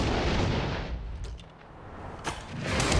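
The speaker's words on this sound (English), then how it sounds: "When Adam and Jamie recently took aim at grenades, there was fire in the hole." Grenade detonation in a test: a heavy, booming blast rolls off into a long rumbling decay, followed by a sharp crack and a renewed low roar.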